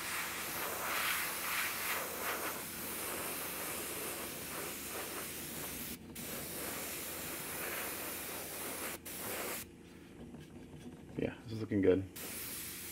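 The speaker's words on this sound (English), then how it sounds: "I'm airbrushing this way so that the paint fades towards the top." An airbrush sprays paint tint onto a quarter-scale custom figure in a steady, close hiss that pauses briefly, then gives way to a few short bursts and handling noises at the end.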